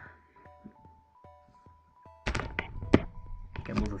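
A laptop is shifted across a surface and its screen tilted forward, making a burst of close, loud thumps, knocks and handling rustles over about two seconds after a quiet stretch with a steady hum.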